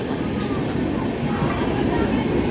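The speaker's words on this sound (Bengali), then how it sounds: "দেখো ট্রেন যাচ্ছে" A train passes beside a temple with a steady, loud, continuous rumble that holds through the whole moment.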